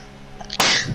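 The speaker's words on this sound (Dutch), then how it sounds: "Ah, tjoe. Gezondheid." A single sharp sneeze from a person nearby, a short breathy intake followed by a loud burst that trails off.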